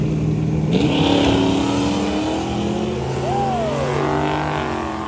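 Heads-up drag race launch of a Mustang and a big turbo Tahoe at a drag-and-drive event: loud engines rising in pitch as both cars pull away, with a steady roar and a commentator talking over it.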